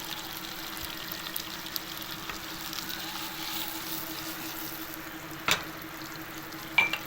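Fish curry masala with coriander powder and fresh coriander fries in a pan as a steady, soft sizzling hiss, fairly close and even, with a couple of brief clinks near the end and no talking.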